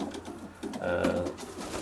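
Racing pigeons in a loft coo in low, throaty bursts, close by, with several overlapping calls and soft rustling in the background.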